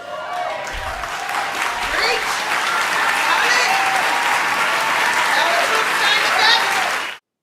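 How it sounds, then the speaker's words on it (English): An awards-ceremony audience at the Golden Globes breaks into sustained applause with cheers and whoops, a loud, steady crowd roar with scattered shouts that ends abruptly. "People are cheering for that?"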